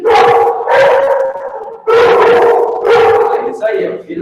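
A few puppies howling and barking together at close range indoors, two long loud overlapping howls with a brief gap between them, fading into softer yips.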